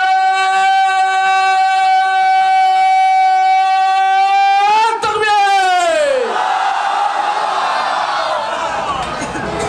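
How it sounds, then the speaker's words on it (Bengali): A crowd at an Islamic sermon gathering, a waz mahfil, shouts the takbir: a leader's long, loud, amplified chant gives way to a massed roar of many voices answering together. "সকলে একটু আমার সাথে শেষবারের ভিতরে তাকবীর দিতে হবে"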